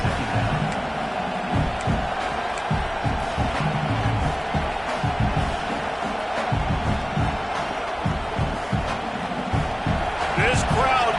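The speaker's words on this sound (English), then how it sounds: "This crowd knows when to bring it." A football stadium crowd keeps up a dense, steady roar with thumping bursts and whoops, heard beneath a broadcaster's continuous commentary.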